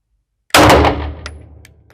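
A single sharp, loud SAR 9 pistol shot at a shooting range, close by, with a ringing metallic decay and a faint secondary clink trailing off.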